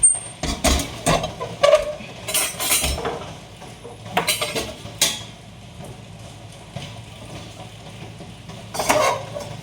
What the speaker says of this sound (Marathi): इकडे तळायला घेते लगेच चिप्स वेफर्स